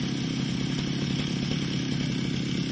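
Yamaha RX King two-stroke motorcycle engine idling and revving close by, a dense, buzzy, continuous drone with a rough rattling texture and no voices over it.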